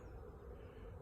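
Honey bees in flight around a hive on a warm day give off a continuous low buzzing drone that stays even and fairly soft for the whole moment.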